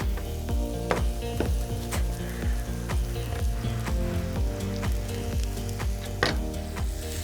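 Onion and garlic sizzle steadily in hot oil in a pan, with a soft continuous frying hiss broken by regular clinks and scrapes of stirring, close and alone with no talk.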